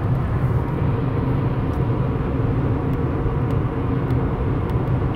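A fast car speeds past on a highway, heard from inside another car travelling around 85 mph, a steady loud rumble of road and wind noise throughout with no clear rise or fall.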